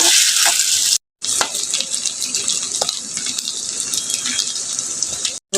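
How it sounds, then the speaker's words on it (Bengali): Eggs frying in hot oil for an egg and potato curry, a bright, steady sizzle with scattered spits, briefly cutting out twice, with no talk over it. "এখন আমি ডিমগুলোকে ভেজে নেব"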